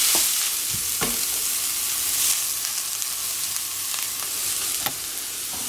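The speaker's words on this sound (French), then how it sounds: "Donc le but c'est aussi de frire un peu les épices." Colombo spices frying with ground meat in a hot pan, a continuous close sizzle with occasional clicks and scrapes of stirring, no talking.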